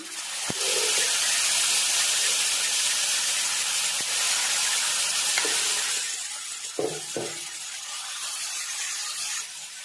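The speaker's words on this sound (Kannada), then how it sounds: "ಆಲೂಗಡ್ಡೆನ ಸೇರಿಸ್ತೀನಿ ಒಗ್ಗರಣೆಗೆ." Boiled potatoes drop into a hot tempering of chillies and curry leaves, setting off a loud, hissing sizzle that gradually settles, with a couple of light knocks of a utensil.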